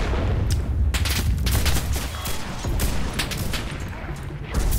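Dense, continuous battlefield gunfire in the video game Enlisted, overlapping rifle and machine-gun shots with booming impacts filling the whole stretch at steady loudness, no voices on top.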